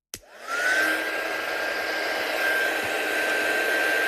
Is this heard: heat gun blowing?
yes